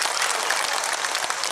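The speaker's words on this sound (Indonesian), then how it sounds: "tepuk tangan" An audience at an Islamic religious gathering in Ponorogo claps in a brief, dense burst of applause, steady and fairly loud throughout.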